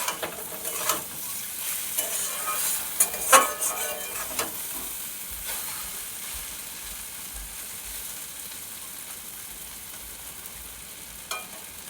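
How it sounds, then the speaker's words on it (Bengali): Taro stolons frying in a pan, a continuous soft sizzle broken by scattered scraping strokes of a spatula, no talk. "কচুরলতিটা এরকম ভাজা ভাজা হবে।"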